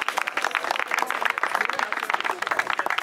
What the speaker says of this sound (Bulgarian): Моля ръкопляскане за тях.